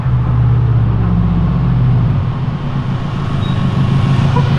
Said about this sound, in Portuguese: Poucos carros têm um ronco tão bonito quanto esse.